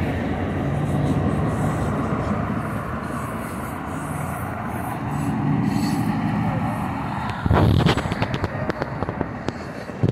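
Two Amtrak passenger trains meeting at West Sacramento, California, a broad rumbling roar that builds, then sharp rhythmic clacks and bangs as the cars pass close by, with faint voices in the background.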